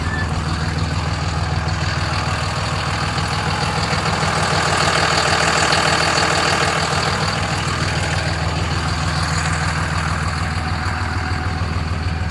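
A 5.9-litre Cummins 12-valve diesel in a pickup truck, running a custom tune, idles with a steady, loud, deep rattling clatter that holds constant throughout, close by and with no voices.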